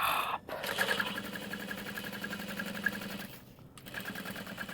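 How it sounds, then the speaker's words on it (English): A sewing machine stitches a seam across the bottom of a handbag, a fast, even mechanical chatter that runs steadily, pauses briefly, then picks up again. "I'm gonna sew across the bottom first."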